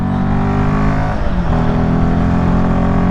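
A motorcycle engine rumbles close and loud with a deep, steady, tractor-like thump while riding uphill in snowy Himalayan terrain, pitch dipping briefly then holding.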